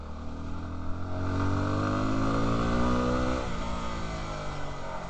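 A BigDog motorcycle engine revs hard toward the rev limiter while climbing a steep grade in Arizona, a loud, sustained rising whine with a steady pitch sweep, held near the limit before easing off, with no talk.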